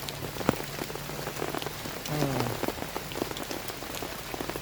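Rain falls in a humid forest as a steady, fairly faint patter of drops on the surfaces around, with a few sharper nearby drips and no voices.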